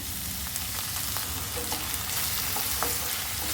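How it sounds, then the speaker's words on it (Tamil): Potatoes sautéing in a pan with onion, green chilli and curry leaves, a soft continuous sizzle with occasional stirring scrapes, fairly quiet and steady with no talking. "உருளைக்கிழங்கு நல்லா வதங்கட்டும்"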